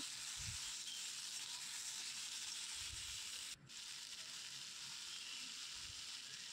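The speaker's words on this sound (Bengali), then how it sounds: "এরপরে আমি আমার ধুয়ে রাখা কেটে রাখা আমগুলো দিয়ে দিচ্ছি এর মধ্যে। দেওয়ার পরে আমি একটু নেড়ে চেড়ে নিচ্ছি।" Chopped raw mangoes stirred into a pan with charred chilies: a faint steady sizzling hiss throughout, with a few soft low thumps of stirring.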